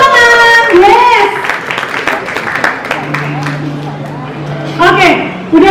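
Audience at a film press conference breaks into scattered applause, hand claps mixed with voices and crowd chatter throughout.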